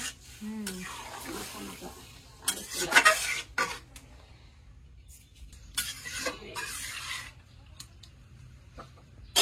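Stirring, scraping and clinking in a pot as broth goes into braised chicken curry, with intermittent bursts of utensil noise over a low background hum, close by.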